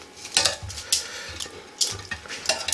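Chicken drumsticks are turned over in an air fryer basket, a run of close, light clinks and scrapes of metal tongs against the basket with a faint sizzle between them.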